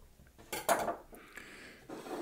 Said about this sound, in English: Let's go ahead and slice our lemons